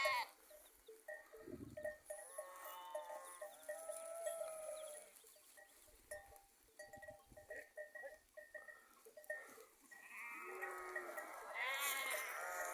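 Several sheep bleat in wavering cries, near and far, overlapping and coming in bursts, with a faint bell-like clink in the background.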